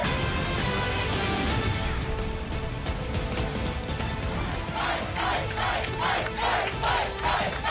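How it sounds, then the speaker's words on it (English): A large crowd at a political rally in Georgia cheers and roars continuously, a dense wall of shouting voices that dips briefly and then surges with rhythmic chanting. "We got a massive crowd here."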